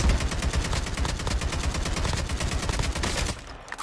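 Rapid, loud gunfire from Call of Duty Mobile rattles in a continuous burst of evenly spaced shots and cuts off just before the end.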